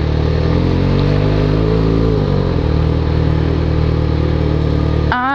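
A Yamaha XJ6 motorcycle idles with a loud, steady low rumble while easing through a tight corridor, then revs sharply right at the end; no talk.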